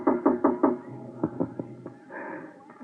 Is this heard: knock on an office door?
yes